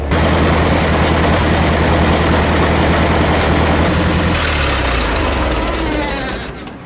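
An old, cheap backhoe's diesel engine, fired up with starting fluid, runs loud and close with a rough, rapid knocking rumble that steadies before fading at the end.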